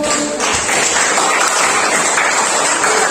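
Classroom applause from students, a dense continuous wash of clapping filling the whole stretch at steady loudness, with no talk over it.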